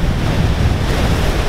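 Sea waves of the Bristol Channel wash steadily against the shore, a constant loud broadband surf rush mixed with wind buffeting the microphone, with no voices.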